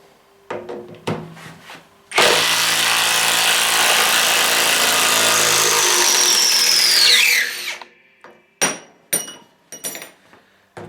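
A Graphite 58G024 cordless impact wrench unscrews a fastener driven into a wooden beam, giving about five seconds of loud, close, continuous hammering rattle. Scattered knocks and handling clatter come before and after.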